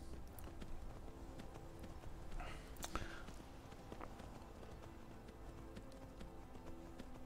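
Horse hooves clip-clopping at a steady gait while riding in the video game Skyrim, a faint, even rhythm with a few brief clanks and sharper game sounds partway through, and no talking.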